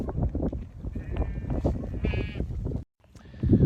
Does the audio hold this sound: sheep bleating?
yes